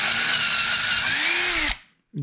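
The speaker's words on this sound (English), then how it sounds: "drill a hole" A power drill whirs at a steady high pitch, its motor rising slightly in tone before cutting off abruptly into silence.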